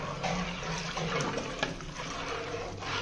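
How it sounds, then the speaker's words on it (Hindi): Water pours steadily into semolina in a pot in a large bulk-cooking kitchen, a faint continuous splashing hiss with no voices over it. "अभी पानी डाल रहा है इसमें"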